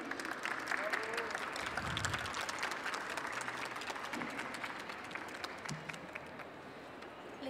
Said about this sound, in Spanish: ¿Por qué no lo recibimos con un fuerte aplauso?